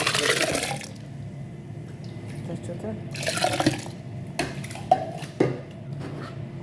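About ten litres of water splash and pour into a large cooking pot for boiling, in uneven gushes with drips and clatter, close by, while someone talks over it.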